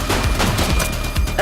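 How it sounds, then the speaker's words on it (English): A short, dense burst of rapid gunfire in the police game The Precinct crackles loudly and up close. "Shots fired!"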